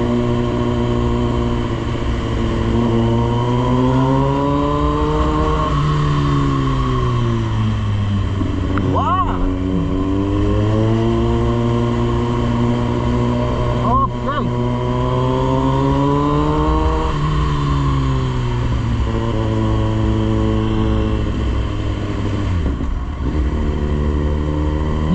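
A Kawasaki Z900 motorcycle ridden on local roads, its engine droning loud and close with rising and falling revs as the rider shifts and accelerates, and brief sharp clicks at a few points.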